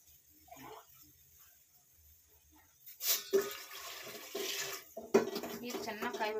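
Water splashes and gushes into a cooking pot for making rava payasa, starting after a quiet stretch and continuing in uneven bursts, with a few clinks of the vessel.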